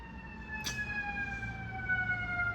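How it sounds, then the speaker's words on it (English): An ambulance siren wails along a Chicago street, its steady tones gliding slowly downward as it passes nearby, with a brief sharp click early and low traffic rumble underneath. "It's an ambulance in Chicago."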